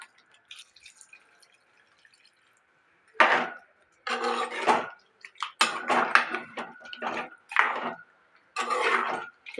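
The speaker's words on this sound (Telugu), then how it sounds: "ఇప్పుడు నీళ్ళు పోసుకుందామండి." Water poured into chicken curry in a pan, heard as several short splashing, gurgling bursts after a quiet start, close and fairly loud.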